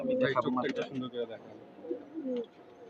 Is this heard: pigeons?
yes